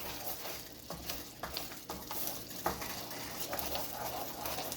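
A roux stirred in a pan for shrimp and grits, with a steady sizzle and intermittent scraping strokes throughout, close and moderately loud.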